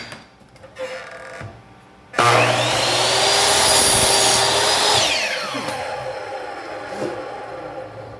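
A power saw bites into an aluminum frame piece after a couple of quiet knocks, giving a loud, sustained high-pitched whine and grinding for about three seconds, then winding down as the blade spins to a stop.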